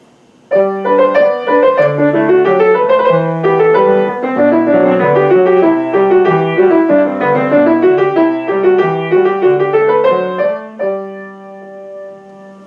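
A steady chord progression on a keyboard-like instrument, Pachelbel's Canon progression, with a low bass line moving under flowing melodic notes, loud and continuous, ending on a held chord.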